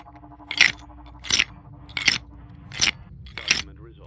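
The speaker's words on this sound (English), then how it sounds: "it's a similar clicking sound to Molten Freddy's" Scrap Baby's clicking audio cue from Five Nights at Freddy's 6 sounds as five evenly spaced, sharp metallic clicks, loud and close over a quiet background.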